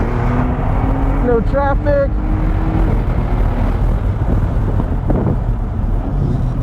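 A Porsche 992 GT3 RS or Maserati MC20 sports car pulls out of the pit lane on a race track. The engine drones loud and close under wind buffeting, while a driver talks over it early on.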